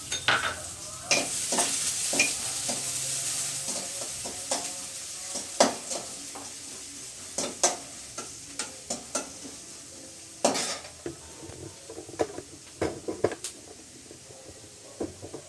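Steady sizzling of onions frying in hot oil, with frequent clinks and scrapes of a utensil stirring against the pan.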